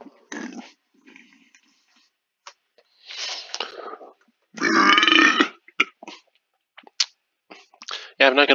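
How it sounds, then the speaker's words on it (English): Repeated burps from a person drinking soda while playing Minecraft on PC, several loud bursts spread across the stretch with short gaps and brief sniffs or grunts between them, close to the microphone. "I'm gonna be burping because I'm drinking soda"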